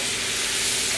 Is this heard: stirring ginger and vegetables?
yes